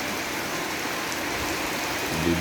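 Steady rain pours down in an even, dense hiss, close and constant, with no voices.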